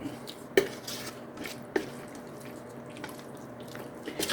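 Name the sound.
stirring pumpkin in a pot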